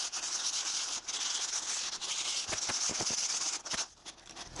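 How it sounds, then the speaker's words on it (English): Eighty-grit sandpaper is pushed back and forth under pressure through the slot between two templates, lapping a wooden joint flat, a close, continuous rasping scrub with a few brief pauses and knocks. "I go back and forth through the slot a number of times, applying pressure on the joint so the paper cuts off all irregularities between the two pieces."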